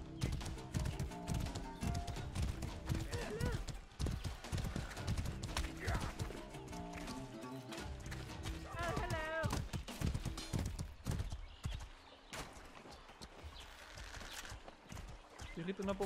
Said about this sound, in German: Kann ich auf dem Pferd eigentlich?